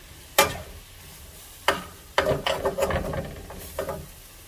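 Green-bean cooking water is splashed into a hot pan holding fresh green beans, giving several sharp sizzling bursts that flare up and then settle into a steady crackle, close and fairly loud.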